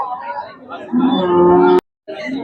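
Cattle low at a rural cow market in Tamil Nadu where pregnant HF cows are sold, a loud, close drawn-out moo rising and holding, then cutting off briefly before more sound resumes.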